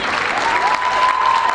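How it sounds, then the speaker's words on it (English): An audience breaks into sustained, dense hand clapping at a World AIDS Day launch event, loud and close, filling the whole stretch with even applause. "Please clap hands"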